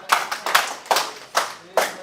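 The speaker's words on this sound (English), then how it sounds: "Round of applause for all of you" A class gives a short round of applause: a handful of sharp, separate claps at an uneven, loose rhythm, close and clear over a quiet room.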